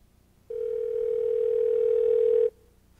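A telephone line tone sounds in an AI phone-answering demo: one steady, unbroken pitch lasting about two seconds, clear and alone, starting and stopping abruptly.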